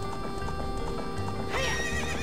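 In Zelda: Ocarina of Time, a horse at a ranch lets out a loud neigh, with game ambience and clopping steady beneath it.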